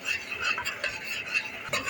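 Flour is stirred into oil in a pot for Turkish kuru fasulye, a close, steady scraping of a utensil against the pot in repeated strokes with a light sizzle underneath.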